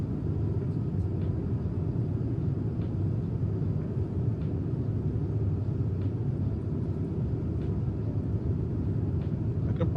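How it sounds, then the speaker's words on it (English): Engines of an iniBuilds A350-1000 airliner in MSFS 2020, heard from the rear of the cabin: a constant low, muffled rumble that holds steady throughout, with no voices. "Barely hearing the engines."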